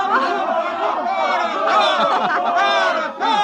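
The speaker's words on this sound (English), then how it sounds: "They're cheering for the bull." A bullfight crowd cheering for the bull, a dense mass of excited voices chattering and calling together, loud and close throughout.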